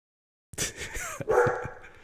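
A dog barks a few times at close range after a moment of silence, with sharp yips and a short whimpering whine between the barks.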